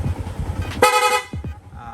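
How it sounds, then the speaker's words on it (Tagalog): A Yamaha Sniper 150 motorcycle horn blares in a quick burst of short, loud toots, close by, with a faint engine underneath. "Tapos rapid horn, long press lang po natin tong horn switch"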